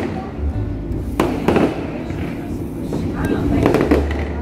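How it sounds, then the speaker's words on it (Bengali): Fireworks bursting outdoors during Diwali celebrations in London, a series of crackling booms and pops at some distance, with a steady background rumble throughout. "দেখো বাইরে কত বাজি ফাটছে।"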